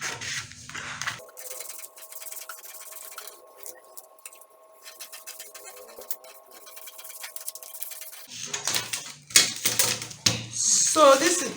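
Scissors snip and rustle through a paper pattern for a front half bodice with a shoulder dart, in short scratchy bursts at the start and again near the end, separated by a quiet stretch with a faint steady hum.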